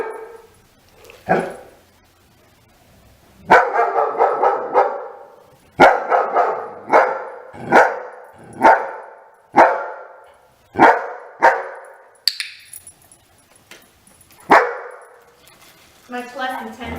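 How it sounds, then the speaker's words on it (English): A dog barks about ten times in sharp, close bursts with short pauses between them, the later barks coming in a quicker run. "I can tell where's the bark."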